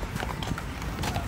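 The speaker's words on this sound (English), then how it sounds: "it's a big horse!" Large horse's hooves clip-clopping steadily on a hard surface amid busy outdoor background noise in New York City.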